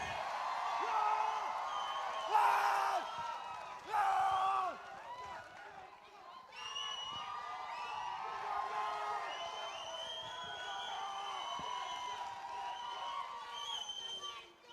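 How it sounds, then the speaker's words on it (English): A crowd at a cage fighting championship screams and cheers in loud bursts, with whoops rising over an announcer's amplified voice, then settles into a sustained roar of shouting and chatter. "Ladies and gentlemen, one more scream for Darren Karshande."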